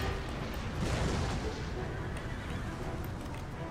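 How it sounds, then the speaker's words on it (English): Booming cannon fire from foot and long artillery pieces in Empire: Total War, a dense, continuous rumble of distant shots and battlefield din, with brief louder thuds near the start. "Get my long artillery, my foot artillery to hit the rangers."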